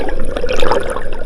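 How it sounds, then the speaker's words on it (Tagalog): Strong river current rushing and churning, a loud close wash of turbulent water with splashing texture filling the short moment without voices. "sobrang lakas ang agos din!"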